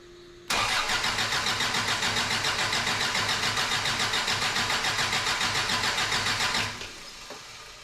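A Toyota truck engine cranks on its starter, a steady loud rhythmic churning whir that begins abruptly and runs for about six seconds without catching, then cuts off, leaving faint background noise.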